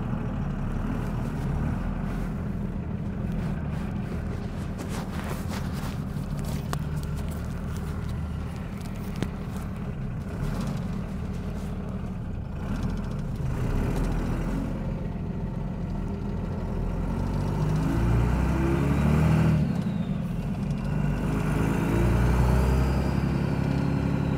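A 24-valve Cummins diesel truck hauling stone, its engine a steady loud low drone that rises and swells toward the end as it pulls in second gear, with no voices.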